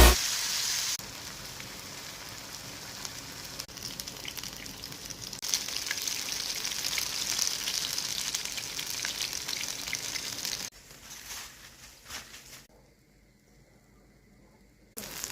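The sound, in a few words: salt fish fritters frying in oil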